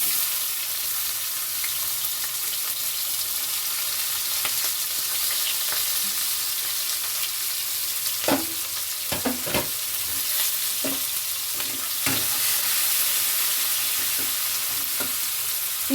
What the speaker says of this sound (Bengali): দিচ্ছি কুচিয়ে রাখা পেঁয়াজ।